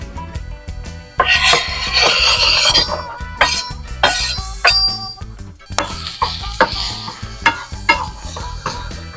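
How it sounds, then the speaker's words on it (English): Ramps cook down in a pan ahead of adding eggs. A close sizzle runs under repeated scraping strokes of a utensil against the pan, with short pauses between bursts of stirring and no speech. "we need to cook our ramps down just a little bit"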